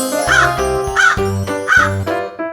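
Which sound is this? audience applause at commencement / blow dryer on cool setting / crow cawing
crow cawing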